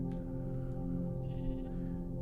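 A sheep bleats faintly a couple of times over a steady low electronic hum, like game audio.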